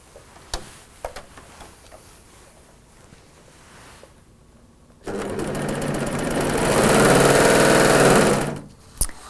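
A bernette B48 Funlock overlock sewing machine runs at high speed, a loud steady whirring rattle that starts abruptly about halfway through, holds for several seconds and stops, after a few faint clicks and handling sounds.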